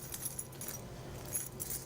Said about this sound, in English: Whose keys are these?